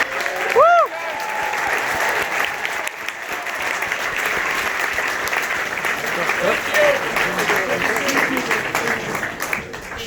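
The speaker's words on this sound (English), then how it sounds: "So a big round of applause for the Rockies." A crowd at a Rockies fan fest applauds the baseball team, steady full clapping that carries on for several seconds, with a brief whistle-like tone early and some voices mixed in.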